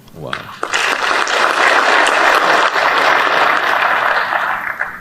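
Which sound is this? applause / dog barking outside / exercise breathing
applause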